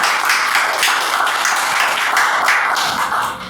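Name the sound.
audience applause for an artist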